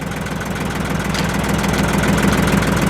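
A tractor engine runs at idle up close, a steady loud low rumble with a rapid rhythmic knock that continues evenly throughout.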